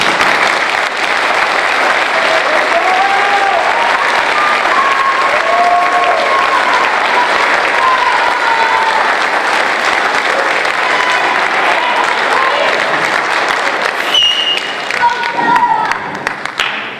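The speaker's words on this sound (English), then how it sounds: "Please give them a round of applause." Seniors at a high school band concert are honoured with sustained, loud audience applause filling the hall, with a few voices and cheers rising through the clapping toward the end.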